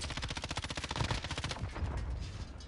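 Rapid bursts of automatic gunfire in the Rebirth battle royale video game rattle in a fast, continuous stream before thinning out, loud and close with no voices.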